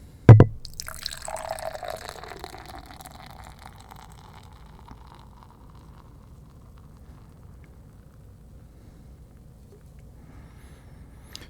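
Beer splashes briefly into a glass in a short burst of pouring, then a soft fizzing and settling hiss trails off into quiet.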